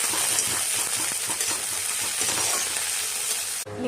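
Chopped onion, tomato and a split dried red chilli frying in very little oil in a wok, a dense close sizzle with scattered crackles and light stirring scrapes, ending in a sudden cut.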